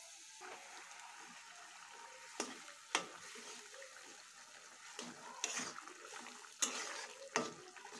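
Leafy greens sizzling in a pan with fried garlic, a steady crackling fry punctuated by a few sharper splashes and scrapes as the greens go in and are moved about.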